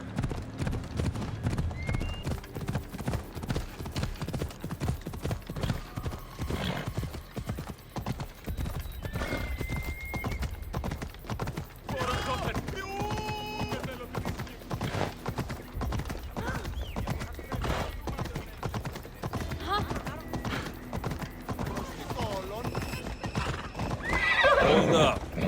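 A horse in Assassin's Creed Odyssey gallops with steady clip-clop hoofbeats and lets out whinnies, with someone talking over much of it.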